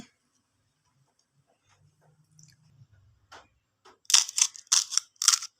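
Several sharp, crisp crunching bursts close up as crispy fried puris for pani puri crack, following a quiet stretch with faint low murmurs.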